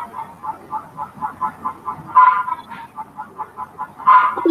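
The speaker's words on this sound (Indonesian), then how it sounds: "ni bunyi ayam apa ni ya?" Chicken clucking in a steady run of short rhythmic clucks, with two louder, fuller outbursts, heard alone and fairly close from an open microphone during an online lecture.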